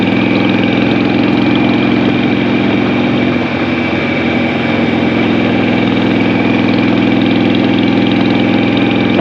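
A 2006 Harley-Davidson Sportster motorcycle engine running close by at a steady idle, a loud, continuous low rumble with a slight throb partway through and no speech.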